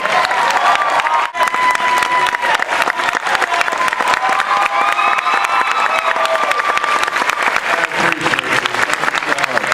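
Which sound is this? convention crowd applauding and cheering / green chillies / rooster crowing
convention crowd applauding and cheering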